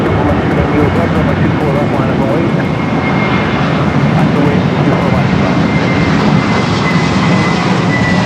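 An Austrian Airlines Boeing 777-200ER departing LAX airport for Vienna gives a loud, steady, broadband jet engine roar that stays constant throughout, close and powerful.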